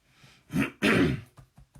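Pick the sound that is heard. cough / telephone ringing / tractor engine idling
cough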